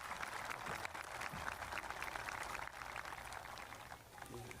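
Parents at a high school graduation ceremony are applauded by the crowd, a steady wash of clapping that stays even throughout, heard from a distance in a large hall.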